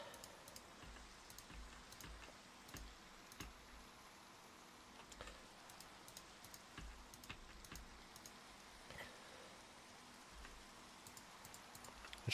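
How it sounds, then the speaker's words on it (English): Steady rain falls in a Minecraft world from the All The Mods 9: To The Sky modpack, a quiet, continuous hiss with scattered soft drop ticks throughout, no talking. "it sure rains a lot in this world."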